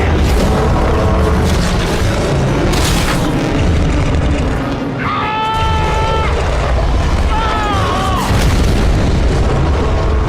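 Heavy weapon fire and deep explosions from an alien invasion film boom loudly and continuously, mixed with sweeping sci-fi tones and short bursts of dialogue.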